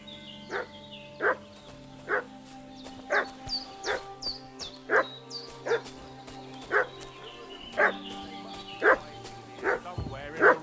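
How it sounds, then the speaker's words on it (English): A dog barks repeatedly in the medieval role-playing game Kingdom Come: Deliverance II, a steady run of sharp, mid-distance barks and yips over a low game ambience. "What's that dog making such a fuss about?"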